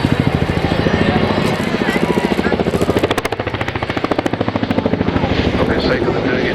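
Helicopter flying an aerobatic display at the Cosford airshow in 2015, its rotor beating in a fast, steady chop, loud and fairly close, while a commentator talks over it.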